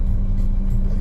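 Steady road noise from cars along Aguinaldo Highway near Bacoor, heading toward Manila, as a continuous close low rumble of traffic with no voices.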